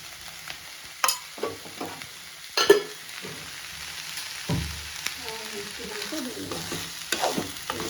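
Beans fry in a pan as chili powder is stirred in, with spoon scrapes and knocks against the pan over a steady soft sizzle.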